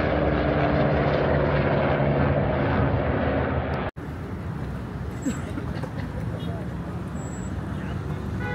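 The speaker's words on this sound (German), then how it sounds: "es sind gut aktuell so 10 Helikopter hier am Kommen und Gehen" Helicopters coming and going at a busy Dakar Rally 2024 refuelling spot, a loud continuous rotor and engine drone that cuts off abruptly and gives way to a fainter, distant aircraft hum, with talk faintly beneath.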